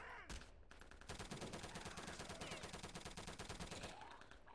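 Rapid automatic gunfire in Return to Castle Wolfenstein, a continuous close and loud stream of shots lasting several seconds, with no talk over it.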